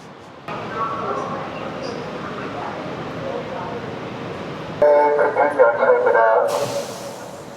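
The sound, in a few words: train on tracks in Korea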